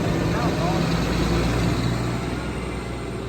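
Isuzu diesel engine running steadily on a 2006 GMC C8500 Altec DM45 digger derrick 4x4 truck, a constant low rumbling idle close by with muffled voices over it.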